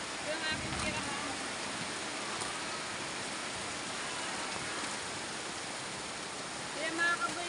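Heavy afternoon rain pours down as a steady, dense hiss of broadband noise with no clear breaks, fairly quiet overall.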